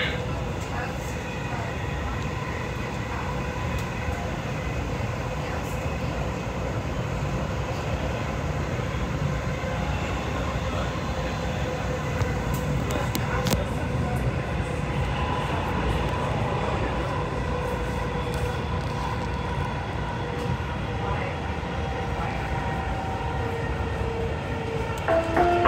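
Dubai Metro train running on its rails, a steady rumbling drone with rail hum that holds throughout, with announcements in English and Arabic heard over it.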